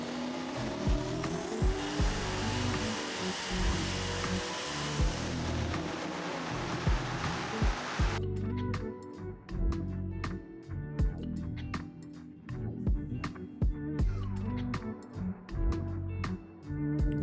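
A turbocharged LS engine on a dyno at 50 pounds of boost screams through a loud rising pull, then drops to a choppy, popping idle with sharp repeated cracks and bangs, close and alone.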